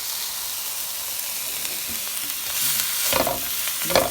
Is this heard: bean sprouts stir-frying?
yes